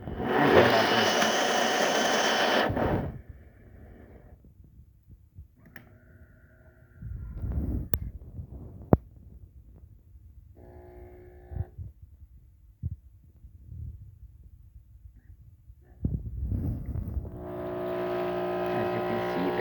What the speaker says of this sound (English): we're going to do another 2 more shots of espresso